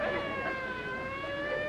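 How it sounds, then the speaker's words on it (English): Sirens wail in a steady rising tone across a quiet country hillside, continuous and moderately loud, with no voices over them. "Them sirens!"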